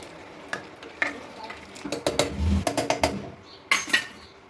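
Rice pulao mixture stirred with water in a pressure cooker, a spoon knocking and scraping the metal pot in irregular clustered taps, close and fairly quiet with liquid sloshing between.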